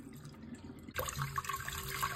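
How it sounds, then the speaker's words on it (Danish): Water pours from a tap over rice being rinsed in a bowl, a quiet trickle that jumps into a fuller splashing rush partway through, close by with no speech. "når man skyller risene, så skal vandet til sidst ikke være så uklart"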